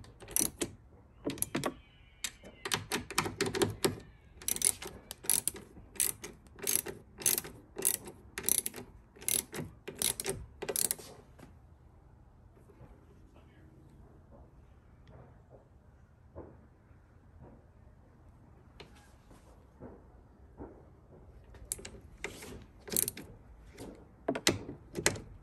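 Ratcheting hardware tightening nuts that hold a replacement left side mirror on a 2022 Ford Maverick, bursts of quick close clicks in a run, a quiet pause, then another short run of clicking, with no talking.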